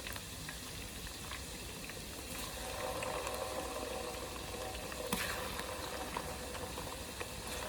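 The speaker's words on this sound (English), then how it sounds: "I'm going to add my tomato paste now." Tomato paste sizzles and bubbles in a large pot of party jollof rice, a steady faint hiss of frying with soft crackles, no voices.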